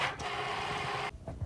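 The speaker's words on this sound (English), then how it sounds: "And it is going to begin cutting." A vinyl cutting machine starting to cut shirt vinyl, giving a steady mechanical whir for about a second before stopping, followed by a few brief motor shifts, close and alone.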